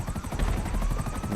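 An aircraft engine going down in a video game gives a loud, steady, rapidly pulsing rotor-like drone that runs unbroken through the whole moment.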